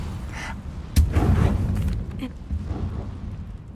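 Confringo blasting spell explosion in the Hogwarts Legacy video game: a sharp booming blast near the one-second mark with a rumbling tail, followed by smaller pops and bursts, while a voice speaks in the background.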